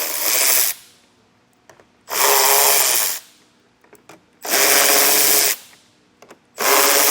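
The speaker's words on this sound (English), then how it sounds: "Going to take a 7mm socket and just break all these loose." Power tool driving a 7mm socket to loosen fog light bolts on a front bumper: four loud, steady whirring bursts of about a second each, separated by short pauses with faint clicks and handling noise.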